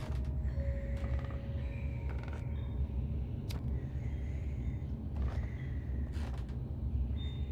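Squeaky creaking in the horror video game Little Nightmares, drawn-out mechanical creaks and squeals over a low, constant rumbling drone, with no talking.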